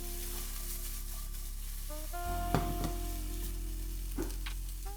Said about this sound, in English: Now chop up the bacon and add it straight into the pan.